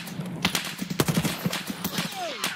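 Bursts of gunfire in Escape From Tarkov, a string of sharp cracks and short rattling volleys at varied distances over a couple of seconds, with a brief whistling sweep near the end.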